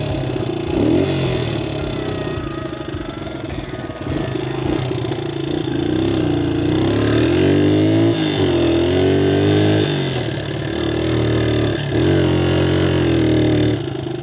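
A cheap, busted dirt bike engine runs loud and close with a slightly high idle, revving up and down in repeated swells throughout.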